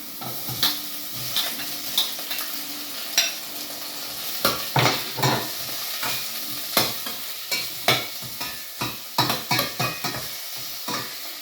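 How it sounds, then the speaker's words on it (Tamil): Onions fry in hot oil in a pan for a Tamil home dish, with a steady sizzle broken by repeated scraping stirs of a spoon against the pan, close and fairly loud, with no talking. "இதுக்குள்ளே இப்போ வெங்காயத்தை போட போகிறோம்."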